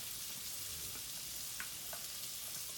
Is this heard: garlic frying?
yes